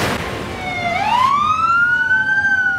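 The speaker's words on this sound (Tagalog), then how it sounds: "Napasugod ang fire truck na yan" A fire truck's siren wails as the truck rushes along a road in Pagadian, Zamboanga del Sur, toward a burning motorcycle. The tone sweeps upward into a loud, sustained rising wail over steady traffic rumble.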